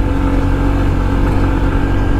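A touring vehicle's engine drones loud and close while pulling steadily uphill on a foggy mountain road near tea plantations, a constant throttle-held roar with low rumbling harmonics and no pauses.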